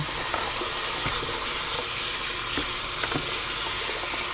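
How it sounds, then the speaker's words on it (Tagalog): Beef marrow bones for bulalo are washed in water, making a continuous rushing, splashing noise with faint knocks and clatters throughout and no talking. "So, hugasan lang yung mga kabuli."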